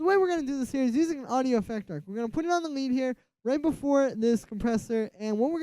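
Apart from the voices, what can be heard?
No distinct noise like a dog, phone or traffic.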